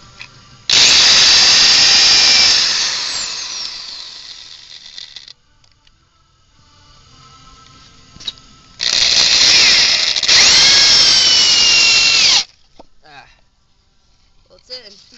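A power drill drives 2.5-inch screws into wood while building a snowboard box, two loud close runs of several seconds each, the motor bogging and winding down, with quiet gaps and faint handling noise between.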